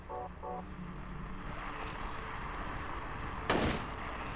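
A gunshot fired at a creature in the video game Silent Hill 3: a single sharp, loud bang late in the stretch, standing out against a low, murky ambient drone, with a faint earlier click.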